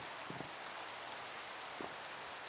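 Steady broadband hiss of rain falling in Minecraft, the Nomifactory modpack, a constant wash of static-like patter with no voices.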